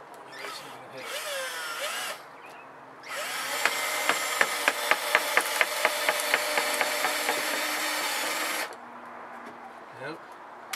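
A power drill drives into a wooden joist during a retractable screen door installation. Faint voices come first, then a loud, close whir runs for several seconds with a rapid train of ratcheting clicks before cutting off.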